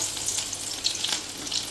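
Garlic, ginger and chopped green chilli sizzling in hot oil in a kadhai, a soft, even crackle with light spattering bursts, brief and fairly faint, with no talking.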